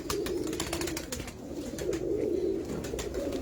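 Pigeons coo steadily at close range for the whole stretch, a continuous throaty warble over a busy, rustling background.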